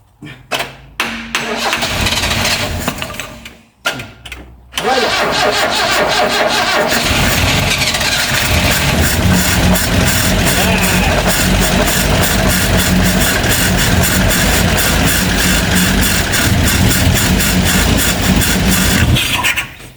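A Vauxhall Magnum car engine, revived after 37 years off the road, cranks with a few short starter bursts, briefly cuts, then catches and runs loudly and steadily close by until the end.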